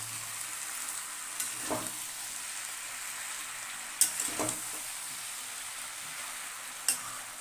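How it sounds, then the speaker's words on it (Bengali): Malabar spinach sautéing in a pan, a quiet steady sizzle with a few scattered stirring scrapes and clinks of a utensil against the pan. "এই পুঁই শাকটা ভালো করে কষাতে হবে"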